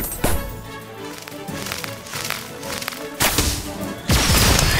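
Whiz bangs spell effects in the mobile game Harry Potter: Magic Awakened, heard as loud whipping bursts and crackling hits over game music, with a sharp crash near the start and two heavier blasts toward the end.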